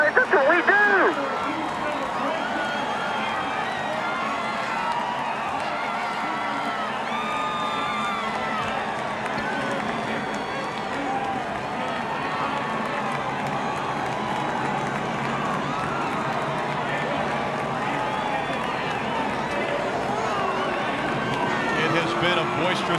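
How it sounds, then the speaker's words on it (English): A boisterous crowd cheers at a 2015 NASCAR night race at Martinsville after Jeff Gordon's win: a dense, steady roar of many voices, loudest at the very start, then holding level for over twenty seconds. "Been a boisterous crowd"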